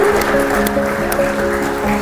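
Church congregation applauding after a healing, a steady, loud wash of clapping with sustained tones from music or voices underneath.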